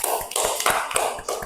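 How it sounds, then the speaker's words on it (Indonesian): Hands clap in an elementary school classroom in a quick, rhythmic series of about eight close, crisp claps, with no voices over them. "tepuk tangan untuk kelompok 1 yang sudah betul semuanya"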